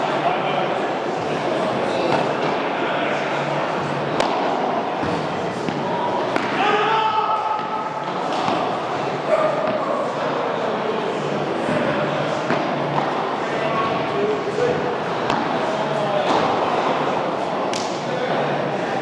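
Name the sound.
padel rally, ball hits in LTA tournament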